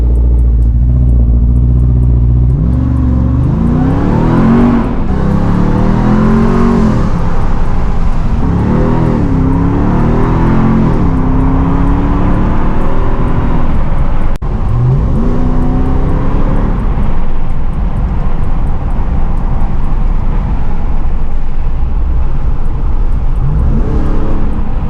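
A Ram 1500 TRX pickup truck engine revs hard and accelerates again and again in loud, rising pulls, roaring close by with no talking.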